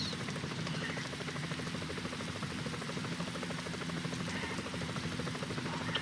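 Police helicopter hovering overhead during a chase in a video game, a steady, dense rotor drone that holds evenly throughout with a faint rhythmic chop.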